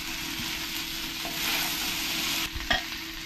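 Chopped vegetables sautéing in ghee in a pan, a constant close sizzle that swells briefly, then a couple of sharp stirring scrapes near the end, no talking.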